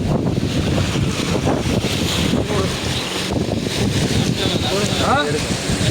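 A fishing boat comes in to the shore at a fish landing, heard as a loud, constant rush of wind and surf with boat noise and people talking throughout.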